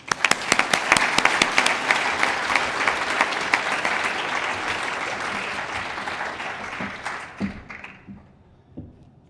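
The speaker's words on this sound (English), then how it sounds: "Let's give them a hand of applause now" An audience at a mathematics awards function gives award recipients a burst of applause. It opens with sharp, distinct claps, swells into a steady roar of clapping, then thins out and fades to a few scattered hands at the end.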